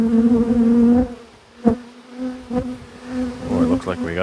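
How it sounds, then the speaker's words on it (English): Honey bees buzz loudly and close while smoke drives them off a hive frame during queen cell hunting, a dense steady drone that dips briefly and then swells again. "Let's see if I can just smoke the bees off."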